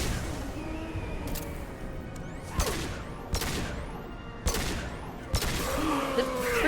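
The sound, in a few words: gunfire in a video game (Mass Effect 2)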